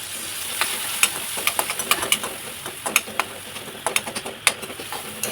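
Chopped tomato and half a spoonful of turmeric frying in a pan, a busy crackling sizzle broken by sharp spatula scrapes and taps at an irregular pace, close and fairly loud with no talking.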